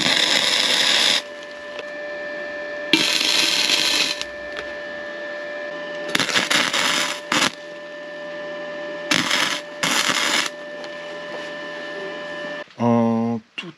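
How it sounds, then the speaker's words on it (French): Metal discs being welded, with bursts of crackling, hissing arc noise that start and stop in several separate runs over a steady electrical hum, then a short buzzing rattle at the end. "Il ne reste plus qu'à souder."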